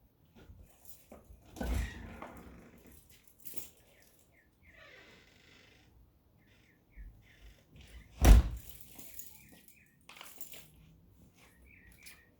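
A door closes over a resistance band anchor, giving one sharp, loud thud amid quiet room shuffling and a few softer knocks.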